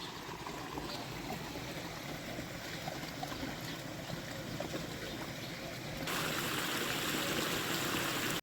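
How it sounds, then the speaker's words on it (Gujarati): Water flows steadily into a small garden plot, a soft, constant rushing trickle heard close and low in level, growing slightly louder toward the end. "જો અહીં ઝીણકી વાડીમાં પાણી ચાલુ કરી દીધું છે"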